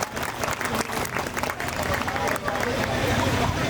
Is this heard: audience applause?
yes